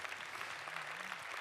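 Brief audience applause at a corporate event's environmental impact award ceremony, a dense continuous wash of clapping at moderate distance and fairly quiet, with no voices on top.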